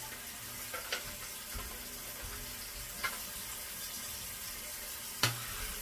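Tap water runs quietly into the plastic tank of a water flosser, a soft steady hiss of filling with a few small clicks and knocks of handling.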